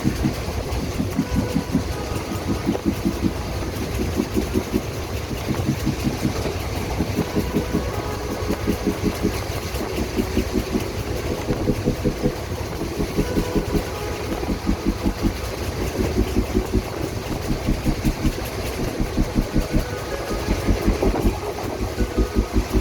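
The Rajya Rani SF Special train rolls at speed past Balamau Junction, heard from inside the carriage as a loud steady rumble with a regular clickety-clack of wheels over rail joints, with no talking.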